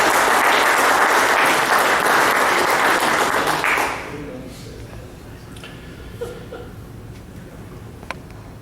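Loud, sustained applause from a meeting audience fills the first four seconds, then cuts off abruptly, leaving a quiet room with a few faint knocks and small sounds.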